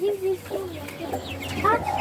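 Chickens cluck and murmur close by in short, scattered calls while eating their feed, mixed with a person's voice speaking.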